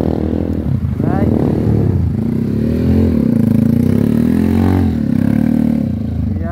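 A motorcycle revs loudly and steadily while stuck on a rough Calawis trail as riders lift it free, the engine droning throughout with scraping clatter and voices speaking over it.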